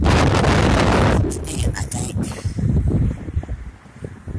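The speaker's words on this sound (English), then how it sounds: "Now y'all seen and heard that wind. It's been nonstop all day like that." Strong, gusty wind roars loudly into the microphone outdoors ahead of a severe storm with a tornado watch, a heavy continuous rush at first that eases into uneven buffeting gusts.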